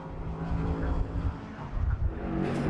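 An LMP3 race car pulls out of the pit lane during an LMP3 Cup race, its engine note loud and continuous with a low rumble throughout, rising slightly toward the end.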